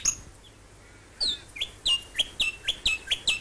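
A noisy scrub bird calls in coastal heath and scrub on a southern coast reserve, giving a run of sharp, loud, ringing chirps in quick rhythmic succession, close by and with no talk.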